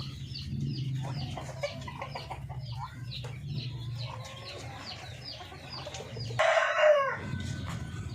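Free-range chickens cluck continuously in a farmyard, and close by a rooster breaks in with a loud crow near the end, over a low background hum.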